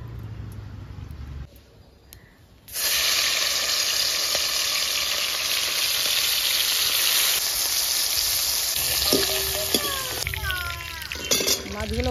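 Prawns coated in turmeric and salt frying in oil in a wok give a loud, steady sizzle that bursts in after a quiet start and holds to the end, with brief tonal clinks and a voice heard faintly near the close.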